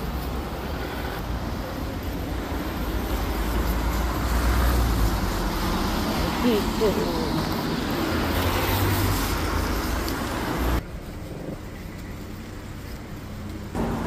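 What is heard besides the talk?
bus driving off on a countryside road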